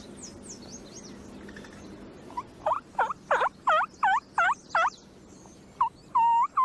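A hen turkey yelp is imitated with a mouth call. A series of about eight evenly spaced, raspy yelps rises and falls, then a short pause and two or three more yelps, all close and clear over quiet background.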